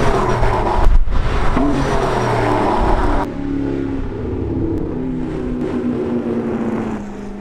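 Ford GT and GT40 race cars driving on Palmer Racetrack, a loud engine roar with revving that drops sharply partway through and settles into a fainter, more distant drone.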